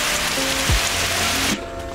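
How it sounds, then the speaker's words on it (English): Heavy rain pours near a cave on the Table Rock hike, making a dense, steady hiss close by that drops off sharply toward the end. "it has never ever rained like this before"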